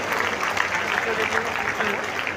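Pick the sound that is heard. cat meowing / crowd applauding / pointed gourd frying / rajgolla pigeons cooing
crowd applauding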